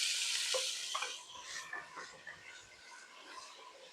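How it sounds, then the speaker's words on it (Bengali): Onions frying in a pan with whole spices and green chillies for a meat curry, giving a steady bright sizzle with occasional stirring scrapes, fairly close and moderately quiet, no talk. "পেঁয়াজগুলি আমি লাল লাল করে ভেজে নেব।"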